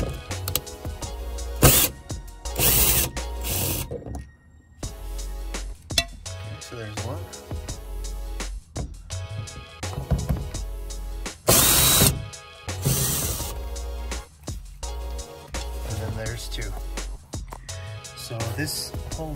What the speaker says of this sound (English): it is either a Phillips or you can use an 8mm socket, which is what I'm gonna do.